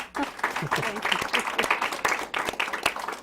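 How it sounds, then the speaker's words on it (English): An audience applauds producer Jerry Lee at an academic quiz competition, a lively round of clapping with sharp individual claps, mixed with voices and cheering from the crowd. "Y'all give Jerry Lee a round of applause."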